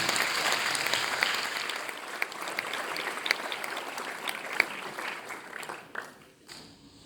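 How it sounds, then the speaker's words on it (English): Sustained audience applause greets Lasika Jayamanne coming on stage at a boys' final results and awards presentation, a dense steady wash of many hands that fades out near the end. "Big round of applause, ladies and gentlemen."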